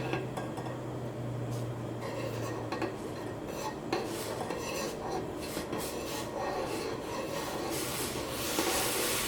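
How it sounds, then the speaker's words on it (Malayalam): Masala chai boiling in a pot is stirred continuously, giving a close, steady scraping and rubbing of a utensil against the pot with light clinks and no talking. "ഇങ്ങനെ ഇളക്കി കൊടുക്കുമ്പോൾ ആ ചായ പതുക്കെയാണ് തിളച്ച് പൊന്തി വരുള്ളൂ."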